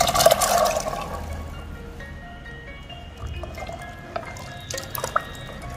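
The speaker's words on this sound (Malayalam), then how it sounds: "ഞാനിവിടെ എടുത്തു വെച്ചിരിക്കുന്ന വെള്ളത്തോടു കൂടിയാണ് കടല ചേർക്കുന്നത്." Chickpeas tip into a pan along with their soaking water for a dhaba-style chole masala, a brief splashing gush at first that settles into softer trickles, drips and light clinks.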